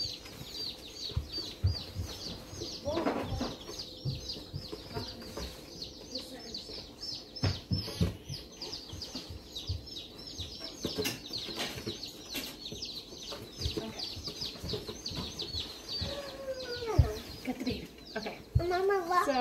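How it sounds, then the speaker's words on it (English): Newly arrived Barred Rock baby chicks peep constantly in rapid, high chirps close up, with scuffling and wing flutters and people talking intermittently nearby. "our baby chicks came in and we're about to put them"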